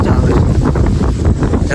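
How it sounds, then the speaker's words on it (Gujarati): Cold wind blowing in the hills near Kadamgiri Dham, a loud, gusty rumble buffeting the microphone throughout the brief moment. "ઠંડો પવન છે ને બહુ મસ્ત આવે"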